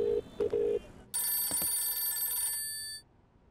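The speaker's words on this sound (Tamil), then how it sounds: "இதோ ரிங் போய்கிட்டு இருக்கு சார்." A telephone rings in short bursts, then a brighter, louder electronic ring tone sounds steadily for about two seconds before stopping, with no talk.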